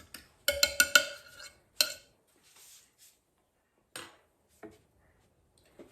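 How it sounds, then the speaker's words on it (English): A utensil clinks and scrapes against a bowl while French toast mix is stirred, a quick cluster of close, bright taps followed by a few isolated clinks separated by silence. "I'm going to give it a good stir again."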